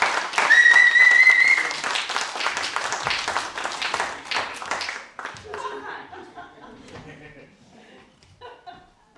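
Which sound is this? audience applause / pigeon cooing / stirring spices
audience applause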